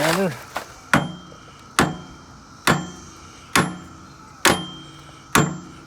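A hammer strikes a metal rim clamp in a garage with seven loud, ringing blows, evenly spaced less than a second apart. A voice is heard briefly at the start.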